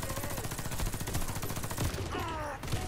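Rapid gunfire in the shooter game Warface, dense bursts of automatic fire running continuously at close range with a few sharper individual shots, a voice speaking faintly beneath.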